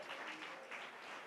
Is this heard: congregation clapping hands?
yes